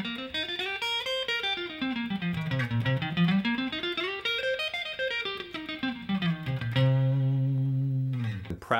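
Electric guitar playing a blues rock pentatonic scale exercise across the neck at full speed, rapid notes running up and down in repeated waves, then settling on a sustained, distorted note; loud and without talking.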